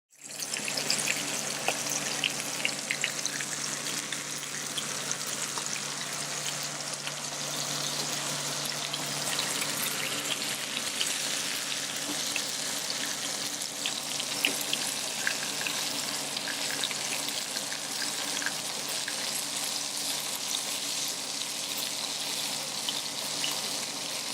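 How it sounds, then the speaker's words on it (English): Bacon and sausages frying in a pan, a steady crackling sizzle with fine popping throughout, moderately quiet and alone with no voices. "Bacon's getting nice and crispy."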